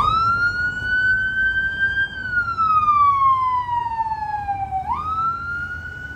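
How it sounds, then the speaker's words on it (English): An ambulance siren wails through Las Vegas Strip traffic, loud and close, in a steady rising-and-falling sweep that ends with a sharp upward jump, over a low traffic rumble. "How this poor ambulance is even going to get through?"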